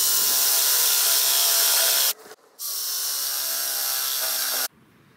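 A loud power drill whirs steadily, boring holes into wood, pauses briefly, then drills again before cutting off.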